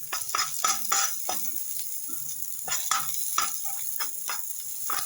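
Onions sauté in a hot pan while a spoon stirs and scrapes them in repeated bursts, the steady frying hiss running underneath.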